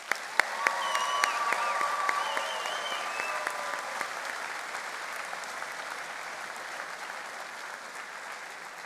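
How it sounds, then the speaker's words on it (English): A graduation convocation audience gives a long, sustained round of applause, steady dense clapping filling the hall from start to finish with no voices over it. "One last huge round of applause."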